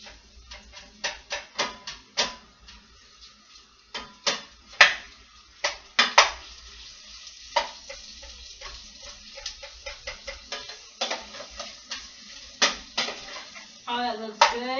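A wooden spoon stirs onions in olive oil in a pan, making irregular dull knocks and scrapes against the cookware, some spaced out and some in quick clusters, close and clear over a quiet background with no talking.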